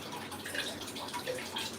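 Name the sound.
water dripping from a printing plate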